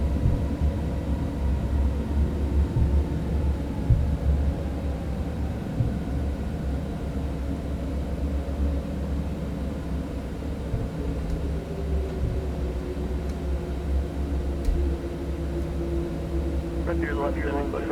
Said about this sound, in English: Whistling sound you hear are the grooved runways under the wheels that all airports have now.